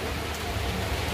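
Heavy monsoon rain pours down steadily in a Hindi home setting, a dense, even hiss that fills the whole moment with no pauses or voices.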